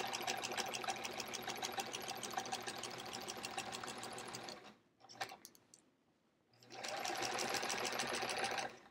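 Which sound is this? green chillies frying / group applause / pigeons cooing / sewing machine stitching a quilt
sewing machine stitching a quilt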